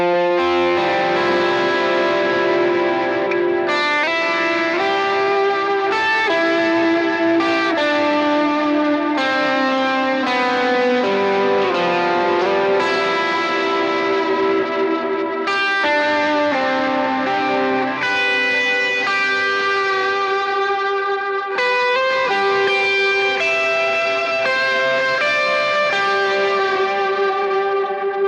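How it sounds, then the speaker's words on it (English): Electric guitar played through a Duke of Tone overdrive pedal on a worship pedalboard, with a ToneX One. Gritty, sustained chords and ringing notes with chorus-like shimmer and reverb wash, played continuously and fairly loud with no talking. "And when I bring in a Duke of Tone, this is what I get."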